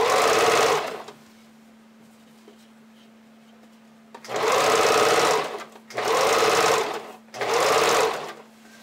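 Sewing machine stitching elastic onto panties, running in loud close bursts: one long run, a pause, then three more runs separated by short stops, with a faint steady hum in between.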